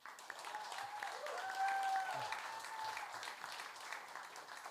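Audience applause at the close of a hurricane windows and roofing showcase panel, a sustained wash of clapping that swells in the middle and holds steady throughout, with a few faint raised voices mixed in.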